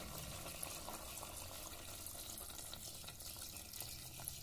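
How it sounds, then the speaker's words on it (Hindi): Water runs steadily into a pot of mutton curry as half a litre is poured in, a continuous close splashing gush with no speech. "अब डालेंगे इसके अंदर पानी, आधा लीटर पानी डालना है इसके अंदर"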